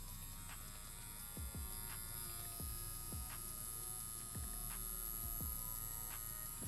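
A tattoo pen machine fitted with a 7 round liner runs at 5 volts, giving a steady, close electric hum with a faint buzz and some soft, rhythmic throbbing underneath.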